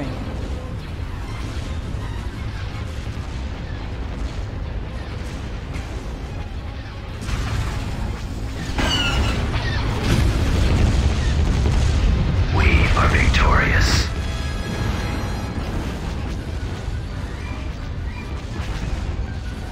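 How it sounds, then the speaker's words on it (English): Space-battle cannon fire in Star Wars: Empire at War sounds as loud booms and cracking bursts over a rumbling mechanical din, building to heavy volleys midway, with brief voice lines also heard. "Cannon firing."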